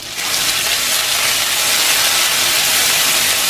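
A spice paste of ginger, garlic and green chilli with turmeric and cumin is sautéed in a large wok, giving a loud, steady, hissing sizzle that holds evenly throughout with no talk.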